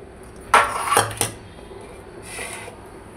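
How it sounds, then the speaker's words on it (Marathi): Roasted green pigeon pea grains are tipped into a metal mixer jar, with a few close, sharp clinks and rattles, then a softer scrape after a short pause. "त्याच्यासाठी आपण तुरीचे दाणे टाकूया मिक्सरच्या भांड्यामध्ये।"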